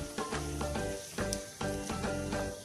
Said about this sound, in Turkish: hepsini bu şekilde kavuruyorum